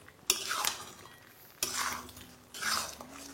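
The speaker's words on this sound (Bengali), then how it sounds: "ব্যাস, এবারই সব কিছুকে আপনাদের আবারও ভালো করে মিশিয়ে নিতে হবে" Spoon scraping through a thick tomato, cashew and poppy seed paste in a pan for a potato curry, in three separate bursts of stirring with quiet pauses between, close and moderately loud with no talking.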